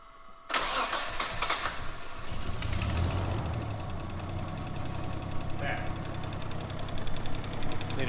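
A Nissan Skyline R31 with a new clutch and a fixed oil leak fires up abruptly and then holds a loud, steady idle close by, with faint voices in the background.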